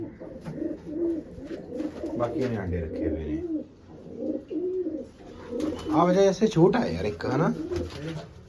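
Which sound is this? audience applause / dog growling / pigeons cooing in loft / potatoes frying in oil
pigeons cooing in loft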